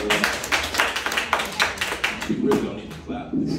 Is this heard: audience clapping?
yes